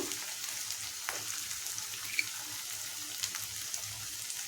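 Vankaya barbati curry, with eggplant and capsicum, fries in a pan with a quiet, steady hiss of sizzling, close by and continuous, with occasional faint pops and light stirring.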